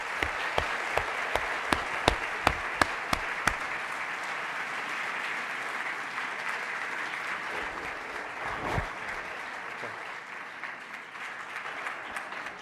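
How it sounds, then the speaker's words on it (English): Sustained applause fills the hall at an evening lecture for a speaker, steady clapping from a sizeable audience with a few sharp individual claps standing out near the start, continuing evenly throughout without talk. "That was just a warm-up applause for a fabulous speaker this evening"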